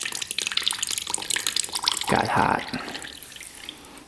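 Coolant trickles and spatters out of a 2-stroke dirt bike engine with a suspect water pump, light dripping and a brief louder splash midway, with someone speaking briefly over it.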